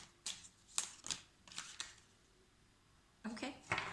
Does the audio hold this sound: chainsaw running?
no